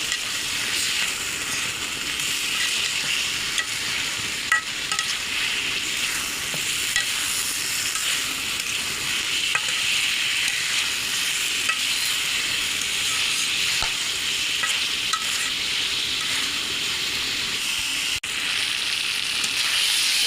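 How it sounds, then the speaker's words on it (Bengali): Cut eggplant stir-fried in spice masala in a pan for a Bengali eggplant curry, a continuous steady sizzle with faint intermittent scraping of the spoon, close up and with no talking. "এখন বেগুনটা একটু কষিয়ে নেব। দিয়ে দেবো মশলার মধ্যে, একটু কষিয়ে নেব।"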